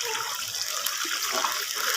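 Water poured into a pan of sugar on a low flame while making syrup for Makhaddi halwa, a steady broadband splashing rush lasting throughout, close and moderately loud with no talk.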